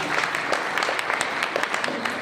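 Audience at a career development seminar applauding the girls, a steady crowd of clapping hands with distinct individual claps standing out, sustained throughout.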